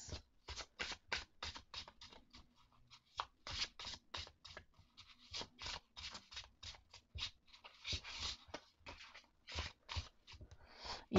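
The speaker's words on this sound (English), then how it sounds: "I love the sound that this deck makes when you shuffle it." Fifth Spirit tarot cards being shuffled by hand produce a rapid series of crisp, papery riffles and taps in short bursts with brief pauses, close and fairly quiet, with no talking.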